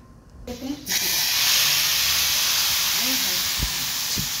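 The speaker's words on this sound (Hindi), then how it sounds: "और देखिए तड़का तैयार हो गया, तड़का लगा लें।" A loud, steady sizzle erupts suddenly as hot tempering is poured into kadhi, a hissing spray that continues strongly with a few faint bumps underneath.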